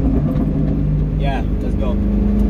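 A 1999-2004 Ford Mustang GT engine fitted with a short throw shifter drones steadily through a downshift while driving, with a voice briefly heard over it.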